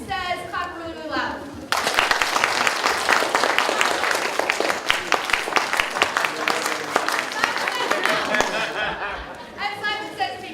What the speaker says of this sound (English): clap really, really loud.